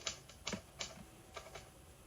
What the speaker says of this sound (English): And that's a typewriter.